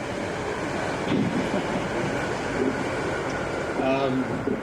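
Steady rumbling rush of a train moving along the rails, with faint clicks and a brief tonal squeal near the end; a voice murmurs in the background.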